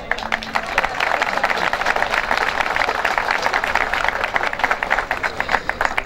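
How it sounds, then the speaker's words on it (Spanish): Audience applause at a public event on agricultural investment in the Province of Ubaté, a steady loud wash of many hands clapping that runs throughout without pause. "¿Ni un aplauso?"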